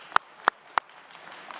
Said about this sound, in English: Can we have a round of applause for Minister Gould, Minister Schultz for getting this done?